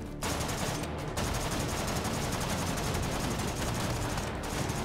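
Gunfire from a gun in the VR shooter Hot Dogs, Horseshoes & Hand Grenades: a loud, continuous stream of rapid automatic fire filling nearly the whole stretch, close and dense with barely any gaps.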